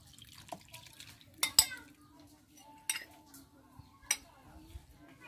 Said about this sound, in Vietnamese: Rau răm, hành, ngò gai, lá tía tô đã bằm vụn là mình sẽ trộn vào đây.